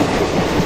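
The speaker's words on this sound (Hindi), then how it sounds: "और सामने से कोई ट्रेन आ रही है, देखिए कौन सी ट्रेन है।" Express train passing at high speed in the MSTS/Open Rails train simulator, heard as a loud, steady, close rush of rolling wheels and rumble with no voices.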